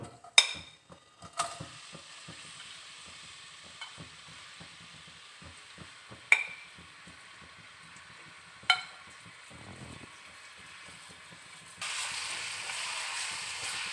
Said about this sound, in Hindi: अब हम प्याज को फ्राई करेंगे।